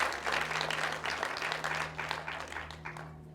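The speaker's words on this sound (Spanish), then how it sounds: "Amén, iglesia, denle un aplauso." A church congregation applauds in honor of Dominican fathers on Father's Day, with dense, sustained clapping from many hands that tapers slightly toward the end and no speech.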